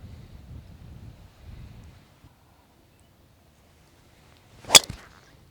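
A golf ball struck off the tee on a windy course, one sharp crisp crack near the end after faint low wind rumble and quiet stillness.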